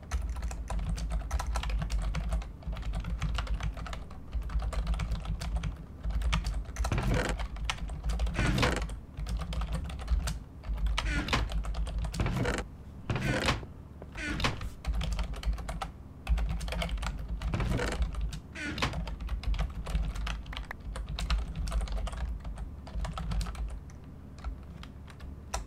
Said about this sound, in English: I'm gonna type the story.